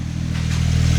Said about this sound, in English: Listen to that idle, man.